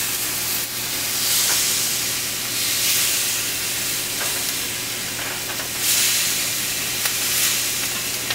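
Skin-side meat, just flipped, sizzles steadily in a frying pan, a loud, close, continuous hiss with slight swells and no voices over it.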